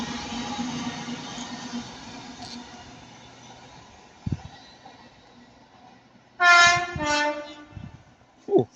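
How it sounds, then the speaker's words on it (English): TransPennine Express Class 802 train at Ardwick sounding its cab horn, two loud close blasts in quick succession after a low rolling rumble of the train passing, with a short extra toot at the end. "Nice horn from the driver. Cab horn, let's say."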